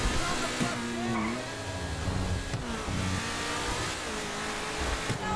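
A Turismo supercar in Grand Theft Auto V revs and accelerates with a continuous, fairly loud, wavering engine drone, while someone talks over it.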